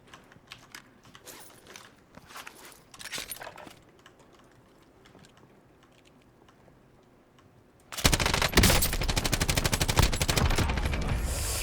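Gunfire in the Call of Duty Warzone video game at a construction site: scattered quiet shots and clicks at first, then a loud, sustained burst of rapid automatic fire filling the last few seconds.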